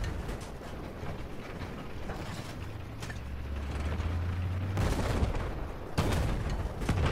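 A C4 charge goes off in a Battlefield 4 multiplayer match, heard as deep booms and gunfire-like blasts in a noisy, rumbling battle mix at moderate to low level, with no speech.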